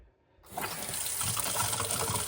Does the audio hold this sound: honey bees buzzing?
no